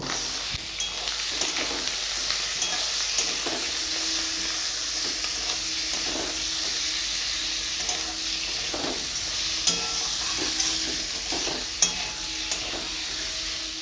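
Pieces of katla fish (thalka) fry in a pan, a steady close sizzle with occasional stirring scrapes throughout.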